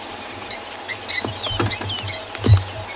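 A mother animal on a sunrise safari at Tswalu calls to her young with soft chirping contact calls, scattered short notes over a quiet outdoor background, with a few low thumps.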